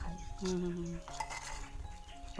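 A hot cooking pot being handled over a wood-fired village stove, with metallic clinks and scrapes of the pot and utensils close by, while people talk quietly underneath.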